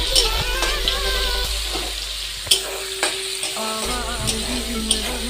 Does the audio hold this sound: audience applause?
no